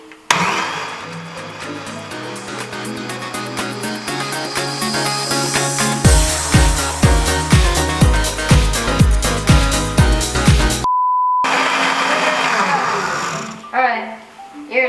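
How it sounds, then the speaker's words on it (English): A blender whirs loudly close by while blending hot carbonara sauce, building through a long pulsing run before cutting off, followed by a short beep and some talking. "time to close it, and we're gonna blend. It's gonna get kind of noisy"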